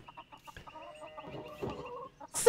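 Small chickens in the farmyard of Pentiment cluck in a quick string of soft, close clucks, rising into a busier flurry of clucking before a sharp sound at the end.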